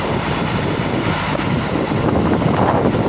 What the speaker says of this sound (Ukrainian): Трохи вітер у нас.